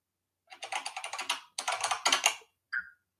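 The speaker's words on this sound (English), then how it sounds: "they have the typing sound effect here" Software typing sound effect: two rapid bursts of dense keyboard clatter, each about a second long, followed by a short isolated click, crisp and close with no talking.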